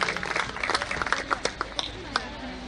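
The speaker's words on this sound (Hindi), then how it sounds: "एक बार जोरदार तालियां हो जाए गुड़िया तिवारी पंत गुंजन के लिए" A crowd claps for a poet at a Haldwani kavi sammelan, a brief burst of clapping that thins into a few scattered claps, with voices talking over it.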